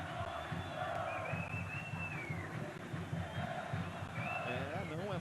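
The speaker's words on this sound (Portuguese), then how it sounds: "É o grito do torcedor do Vasco" Vasco football supporters at a 1998 Copa Libertadores round-of-16 match against Cruzeiro chant rhythmically as a large, distant crowd, their massed voices rising in waves under a louder announcer's voice.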